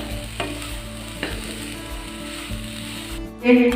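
Egg filling is stirred in a bowl, giving repeated close scraping, clacking strokes in a steady rhythm over a faint background hiss, ending with a louder knock.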